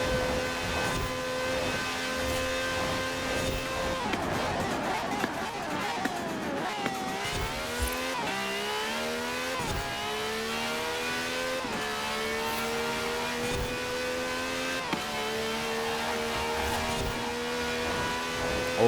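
A race car engine in Forza Horizon 4 revs hard and steadily throughout, climbing and dropping through gear changes with a loud, continuous whine and no talking.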